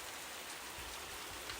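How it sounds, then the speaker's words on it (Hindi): Heavy rain pours on a dark night, a dense, even hiss of falling water with scattered drops patting a surface, steady and close, with no voices. "तेज बारिश हो रही थी"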